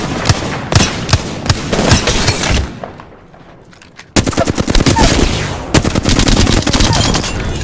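Rapid automatic gunfire in the video game Apex Legends, loud and close, in dense bursts that drop to a thinner stretch of scattered shots midway before heavy firing resumes.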